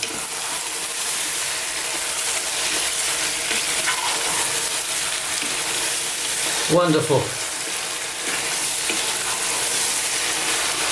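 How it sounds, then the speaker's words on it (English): Tomatoes sizzle steadily in a hot pan while cooking for chicken kabsa, with a brief scrape of stirring and a short spoken word midway. "for about another 5 minutes or so, stirring often now."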